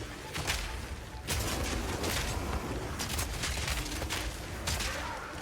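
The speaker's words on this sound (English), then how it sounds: "using it will summon a cannon which loads and then fires the grenade you choose" A summoned mortar cannon in Path of Exile fires grenades, producing a series of sharp booms and bursts at irregular intervals that stand out over a dense, rumbling game soundscape.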